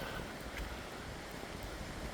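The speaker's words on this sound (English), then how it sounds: "it's a bit breezy today" Steady wind of about 25 km/h buffets the microphone at a campground in Berrima, NSW, a constant low roar with faint gusts, and no one speaks.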